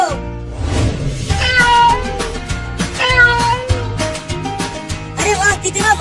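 A cartoon cat meows repeatedly while chasing a mouse, its calls loud and close over busy background music and sound effects.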